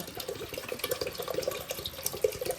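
Water poured into a cooking pot while making khichuri, a steady close splashing and gurgling stream lasting throughout.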